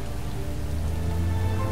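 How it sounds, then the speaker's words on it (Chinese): Steady, dense rainfall in the PS4 game Heavy Rain, a close, even hiss of drops on hard surfaces with a low rumble beneath, continuous and unbroken with no voices. "剧情需要就是要下雨"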